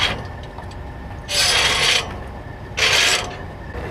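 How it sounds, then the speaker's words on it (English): A large wrench turning a trailer turnbuckle, with two loud, close bursts of grinding, ratcheting metal lasting under a second each, separated by a short quiet pause. "using a large wrench, they'll tighten the turnbuckle"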